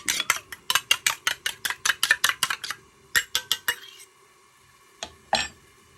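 An egg being cracked and worked with a utensil for katsudon: a brisk run of evenly spaced, loud close clinks against the dish, a short second flurry, then a couple of isolated taps.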